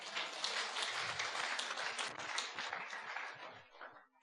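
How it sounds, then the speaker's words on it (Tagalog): Audience applause during an Ilocano Christmas Day church sermon, a dense steady wash of many hands clapping together, fairly loud and continuous before tapering off at the end. "Palakpak ka na yan"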